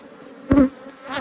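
Honeybees hum around an open beehive, a close, loud buzzing swell as one flies past the microphone, with a fainter drone of the colony before and after.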